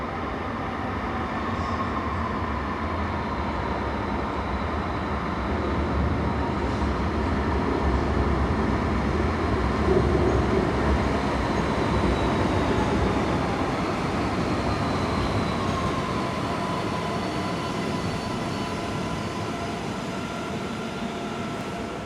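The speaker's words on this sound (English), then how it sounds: "Okay, here comes our tram." A Sydney light rail tram ride fills the space with a steady, rumbling rolling drone of wheels and motor. The noise swells slightly around the middle and carries on continuously throughout, with no talking.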